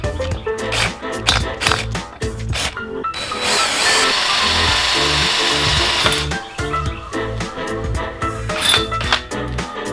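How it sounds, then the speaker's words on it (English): Power drill boring holes through metal hoops for a tomato-growing setup, heard as repeated loud bursts of whirring and grinding, one sustained stretch in the middle, with clattering handling noise between. "me drilling the holes here in the hoops"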